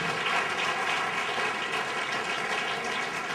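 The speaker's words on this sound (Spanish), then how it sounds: "Dele ese aplauso al Señor en esta mañana." Church congregation applauding during a Spanish-language service: continuous dense clapping from a large crowd, steady and sustained throughout, with no clear speech.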